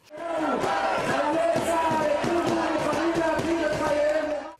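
A crowd of protesters at a rally against Israeli occupation of Jerusalem chant slogans in unison, a loud rhythmic mass of voices with a steady repeating beat that lasts throughout.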